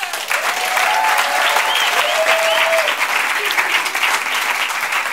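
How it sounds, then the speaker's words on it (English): A concert audience applauds loudly and continuously, a dense wash of clapping that holds steady throughout. "And also give her a big applause."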